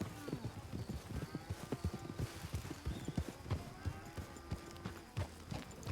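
Horse hooves clip-clop in quick, uneven beats during a cattle drive in the Western roleplay game WildRP, with cattle and horse calls mixed in and people talking over the steady trotting.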